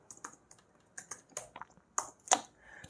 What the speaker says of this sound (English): Now we have to type airmon ng start